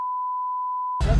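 A censor beep edited into a Tamil travel vlog: one steady, pure electronic tone lasting about a second, loud and alone, cut off abruptly as noisy background sound resumes.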